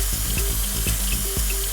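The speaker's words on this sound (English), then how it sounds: "You can also add fluid conditioner inside the new fluid tank too." Fluid conditioner pours from a funnel-shaped bottle into the new fluid tank of a transmission changer machine, giving a steady liquid gurgle under a continuous mechanical hum.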